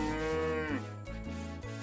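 A cow in the farming game Story of Seasons: Friends of Mineral Town lets out a deep, sustained moo, loud and close, over steady game background music, with no speech.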